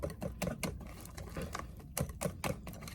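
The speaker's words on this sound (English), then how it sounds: "So you just give them a nice little whisk." A whisk beating lumpy batter in a bowl, giving quick rhythmic scraping taps at a steady fast pace, close and fairly quiet with no talking.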